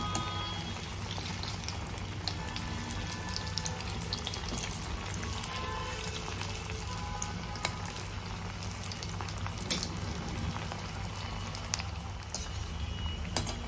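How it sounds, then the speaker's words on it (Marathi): Green pea and oats patties frying in hot oil, a steady dense crackling sizzle that runs unbroken and fairly loud throughout, with no voices. "दोन्ही बाजूने असे चांगले खरपूस तळून घ्यायची."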